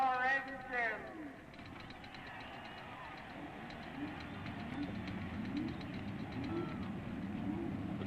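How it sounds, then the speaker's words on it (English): Engines of the 33 IndyCar racers on the grid at the 1970 Ontario 500 fire up and settle into a low, rumbling idle that builds slightly. A brief voice is heard at the start. "Gentlemen, start your engine."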